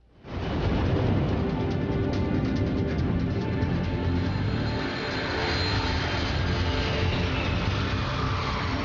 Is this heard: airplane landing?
yes